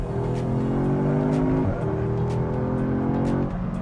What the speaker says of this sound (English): It sounds pretty good for being a 4-popper, and it's basically the same engine